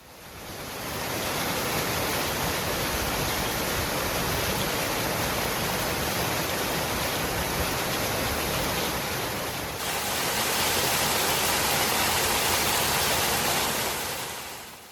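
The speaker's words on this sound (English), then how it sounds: "Another small waterfall on the hillside, bringing water down from the higher ground." A small waterfall tumbles down a hillside, fed by surface runoff after weeks of heavy rain, giving a steady, close, broadband rush of falling water that holds even throughout with no voices.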